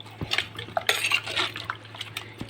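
A spoon stirs ripe mango curry in a clay pot, giving scattered clinks and scrapes with soft wet sloshing in between, close and moderately loud, with no talking.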